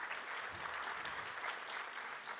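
An audience at a national parole review summit claps after a minister's keynote address, a dense, even patter of many hands sounding faint and distant, with no talking over it.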